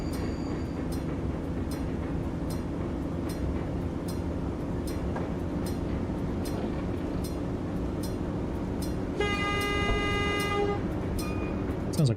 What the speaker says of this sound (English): Sounds like a German train horn,